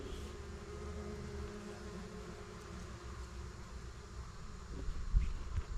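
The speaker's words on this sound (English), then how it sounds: "This whole area is crawling with bees." A steady, droning insect buzz, like bees swarming close by, holds throughout with faint rustling and a brief louder bump near the end.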